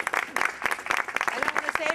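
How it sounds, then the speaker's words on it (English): Audience applause for the Cambridge Historical Commission at a city meeting, a dense patter of clapping mixed with crowd noise and voices throughout. "please give them a huge round of applause"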